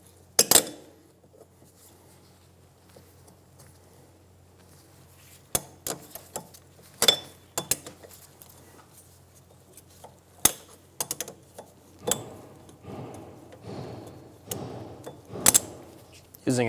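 A cotter pin is worked out of the axle at an Infiniti G35 rear wheel hub: scattered sharp metallic clicks, taps and light clanks of tools on metal, close by in a quiet garage.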